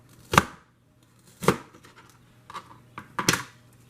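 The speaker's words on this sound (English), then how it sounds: "So you just cut, and then you get this wavy pattern." A wavy crinkle cutter slicing through an apple, five crisp chopping thuds against a board, the first two spaced about a second apart and the rest closer together, close and clear with no talking.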